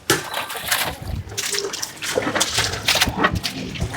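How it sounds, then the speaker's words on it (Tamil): Water poured into intestines for a traditional meat feast in Thondi, Ramanathapuram district: close splashing and trickling in uneven gushes, busy with background bustle. "இப்போ அந்த குடலுக்கு தண்ணி ஊற்றுறது வந்து தண்ணி வருது, அது எப்படி ஊற்றுறாங்க பாருங்கள்"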